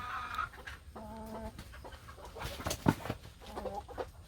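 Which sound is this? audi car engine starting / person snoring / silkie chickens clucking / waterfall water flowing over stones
silkie chickens clucking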